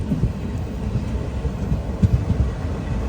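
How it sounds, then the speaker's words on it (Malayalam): A train pulling into Kannur railway station in the evening, a deep continuous rumble with rhythmic low thuds of wheels over rail joints, heard from inside a moving sleeper coach. "കണ്ണൂർ റെയിൽവേ സ്റ്റേഷനിലേക്ക് ഇതാ നമ്മുടെ ട്രെയിൻ എത്തിക്കൊണ്ടിരിക്കുകയാണ്"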